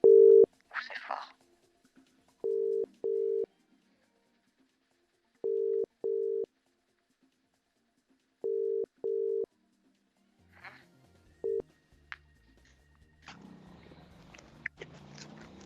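Telegram call ringback tone: repeated pairs of steady electronic beeps with silent gaps between them, loud and clean, followed by a brief rustle and a voice answering.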